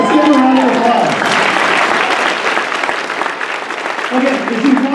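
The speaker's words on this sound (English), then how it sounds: "Let's give a round of applause." Audience applause at a weight-loss recognition gathering: a large crowd claps loudly and continuously, with a speaker's voice heard at the start and again near the end.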